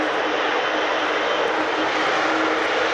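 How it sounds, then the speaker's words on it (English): A display aircraft begins its takeoff roll at the Royal International Air Tattoo airshow, its engines giving a loud, steady, broadband roar that holds unbroken throughout with no talking. "She's starting her takeoff roll now."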